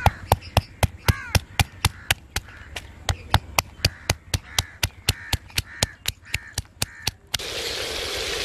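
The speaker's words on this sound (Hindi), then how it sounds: "अदरक के स्लाइस बना लेंगे।" A knife chops ginger into slices on a board with steady, evenly spaced strikes, about two dozen crisp close-up chops, before a brief wash of broadband noise at the end.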